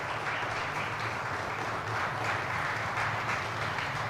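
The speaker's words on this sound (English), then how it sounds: "you hear the room breaking out into applause" A packed room at the January 6th committee's final hearing breaks into loud, sustained applause, dense and steady throughout with a low hum underneath.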